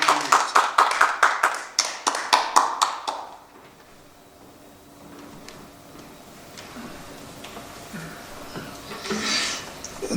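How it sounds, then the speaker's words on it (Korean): Brief audience applause at a New Year blessing service for senior Korean-American clergy in New York, a few seconds of rhythmic group clapping that quickly fades into quiet room noise with faint murmuring. "박수 한번 주세요."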